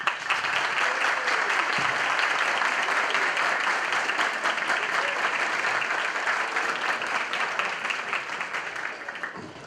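A lecture audience breaks into loud, sustained applause to welcome the evening's speaker, many hands clapping densely and evenly for nearly ten seconds before tapering slightly at the end.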